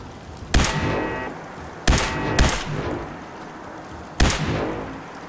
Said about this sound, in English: That's why the machine gun started doing it.